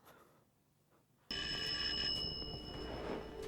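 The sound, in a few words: TARDIS telephone ringing in Doctor Who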